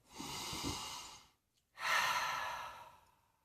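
A slow, deep breath drawn in and then let out, close and soft with a brief silent pause between inhale and exhale, no talking.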